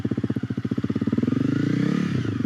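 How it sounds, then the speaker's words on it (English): A Honda CRF 250L motorcycle engine thumps in a steady, rapid idle rhythm up close. The beat then blurs and falters toward the end as the kill switch cuts it. "So I click that, and the bike turns off."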